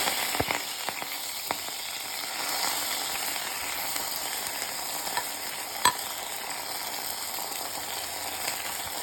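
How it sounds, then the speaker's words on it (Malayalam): Finely chopped bitter gourd fries with mustard seeds in a pan, giving a steady soft sizzle, while a spoon stirs and scrapes with occasional light clinks. No one speaks. "നമ്മൾ കുനുകുനാന്ന് അരിഞ്ഞു വെച്ചിരിക്കുന്ന പാവയ്ക്ക അതിലേക്കിട്ട് നന്നായിട്ട് ഇളക്കി."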